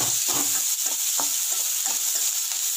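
Onion, carrot, green chilli, curry leaves and coriander sautéing in a pan for kuzhi paniyaram batter, with a steady hiss and the scrape of a spoon stirring the vegetables.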